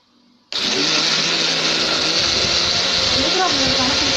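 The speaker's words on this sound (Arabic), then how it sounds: "هنضربهم مع حضراتكم دلوقتي في الخلاط." An electric blender beating sugar with eggs switches on abruptly after a brief quiet moment, then runs loud and steady with a high whirring drone.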